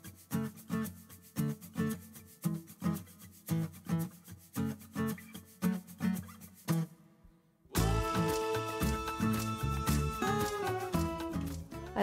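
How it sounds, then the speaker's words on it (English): A painted cabinet door is hand-sanded with 220 grit sandpaper, giving rhythmic back-and-forth rasping strokes roughly twice a second, then after a brief pause a denser, louder stretch of continuous scrubbing. "it was time to sand again with 220 grit sandpaper"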